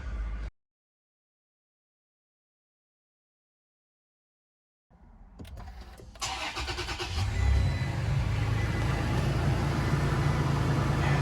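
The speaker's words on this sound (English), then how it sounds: "So I'm gonna turn the truck on, make sure everything's working." After a few seconds of silence, a truck engine cranks, catches and settles into a steady, rumbling idle, close by.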